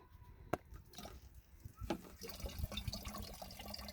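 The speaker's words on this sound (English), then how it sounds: "the water that has filtered down through the dirt and the compost comes out" Water drains out of a raised garden bed's drain after filtering through soil and compost, a faint trickling and splashing that builds after a couple of soft knocks.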